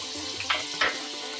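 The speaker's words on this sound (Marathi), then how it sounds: "आता यामध्ये हिंग हळद राई जिरं हे फोडणीचं साहित्य घालूया" Hot oil crackles and sizzles steadily, with two brief louder bursts of spattering as asafoetida, turmeric, mustard seeds and cumin drop into the pan.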